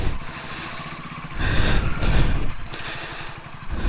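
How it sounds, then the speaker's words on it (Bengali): A 2008 Hero Honda Splendor Plus motorcycle, close to 100,000 km on it, rides along with a steady mid-pitched engine drone that grows louder in the middle as it pulls away. No one speaks. "চলো আজকে এই বাইকটাকে আমি রাইড করি"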